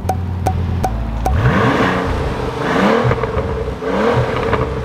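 A Bentley engine revs under load with a loud, rasping exhaust, rising and falling in several sustained surges close by, with faint clicks at the start.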